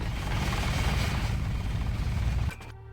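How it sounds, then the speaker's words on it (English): Helicopter in the Deus Ex video game, a steady loud rotor-and-engine drone that runs for about two and a half seconds and then cuts off abruptly, leaving a quieter low hum. "Maybe also put a stop to that helicopter."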